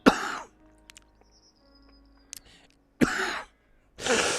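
Two or three harsh coughs burst out close to the mic, separated by stretches of near silence with faint background tones.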